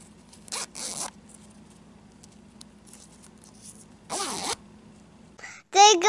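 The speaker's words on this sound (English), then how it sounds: "Zipper." A clothing zipper pulled in several quick rasping strokes, close and crisp, with short pauses between, followed by a voice speaking at the end.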